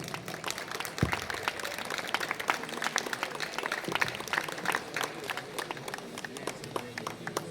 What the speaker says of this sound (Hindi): जोरदार स्वागत के लिए तालियों के साथ